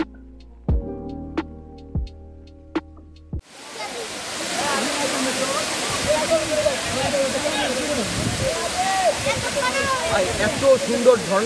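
Waterfall at Napittachhara near Sitakunda, a steady loud roar of cascading water filling the scene after a few sparse knocks and taps at the start.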